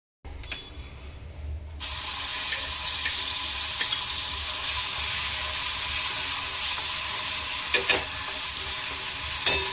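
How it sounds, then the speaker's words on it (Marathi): Ground masala paste for Kolhapuri misal frying in a large ladleful of hot oil, opening with a short hiss and a few clicks, then bursting into a loud, steady, close sizzle that carries on with a couple of louder spatters. "एक मोठी पळी तेल घ्यायचंय आणि आपण जो मसाला बनवला होता किंवा वाटण बनवलं होतं ते ह्याच्यामध्ये टाकून घ्यायचंय"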